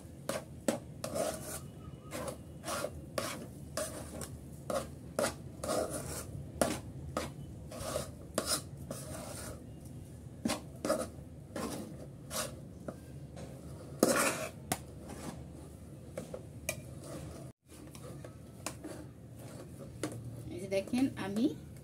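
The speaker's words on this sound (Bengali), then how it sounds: "সুজি দিয়ে আমি ভালো করে নেড়েচেড়ে একটু মিক্স করে নিচ্ছি" A spoon scrapes and stirs semolina (suji) in a pan, repeated rhythmic scraping and clinking close up, fairly steady throughout, with someone talking over parts of it.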